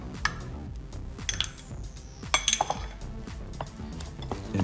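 Ground beef being mixed with melted butter and minced garlic in a bowl for cheeseburger patties: irregular clinks and clatters of a utensil against dishware, some quick bursts of scraping taps, close and moderately loud, no talk.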